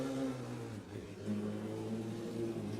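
A Formula SAE combustion race car with a centrally mounted exhaust under the rear wing accelerates during a skid pad event, a steady buzzing engine note with the revs dipping briefly and climbing again, heard at moderate distance.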